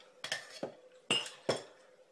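A kitchen knife being deliberately dulled, its edge scraped and knocked against a hard surface in four short, sharp metallic clinks and scrapes, spaced unevenly over a couple of seconds, fairly close with no talking.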